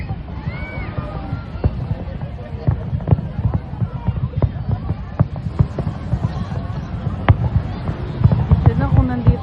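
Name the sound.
fireworks display at Burj Al Arab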